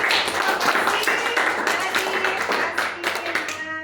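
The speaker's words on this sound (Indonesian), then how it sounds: "Tepuk tangan semuanya sekali lagi." A classroom of students applauds together after a group presentation, dense clapping at close range that tapers off near the end, with voices mixed in.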